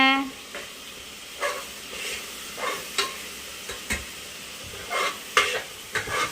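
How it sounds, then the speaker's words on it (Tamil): Turmeric powder being stirred into egg biryani masala in a pan, with a soft hiss of frying and a regular series of spoon scrapes and taps, and muffled voices faintly in the background. "டர்மெரிக் பவுடர் போட்டாச்சு. இப்போ நல்லா மிக்ஸ் பண்ணுங்க."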